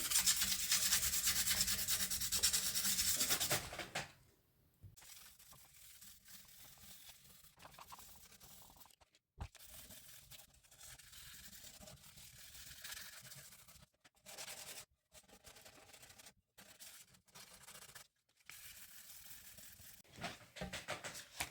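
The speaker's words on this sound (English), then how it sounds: "So I'm just going to sand these little bumps off before we put our decals on there." Fine 240-grit sandpaper rubbed by hand over glitter bumps on a resin and wood cheese board, a soft steady scratchy rasping that runs on with short pauses, close and quiet after a brief louder noise at the start.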